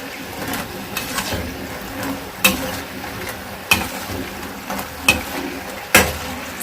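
Food fries crisply in hot oil while being stirred, a steady close sizzle broken by several sharp scraping knocks of the utensil against the pan.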